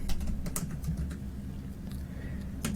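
Computer keyboard typing, a quick run of light close clicks at the start that thins out into a few scattered taps, over a low steady background hum.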